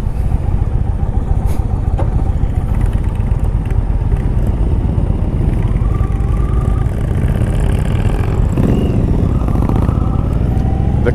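A 2018 Indian Chief Dark Horse motorcycle rides along at low revs, its engine a loud, steady, close rumble with a brief swell of throttle near the end.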